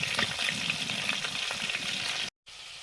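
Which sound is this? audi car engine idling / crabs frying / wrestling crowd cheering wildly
crabs frying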